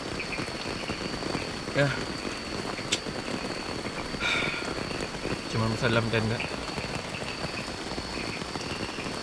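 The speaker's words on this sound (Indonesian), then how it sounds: "Yang gue dengar cuman suara hujan, suara guntur" Heavy storm rain drums steadily on a tent, heard from inside through a continuous dense hiss, while a person speaks quietly over it.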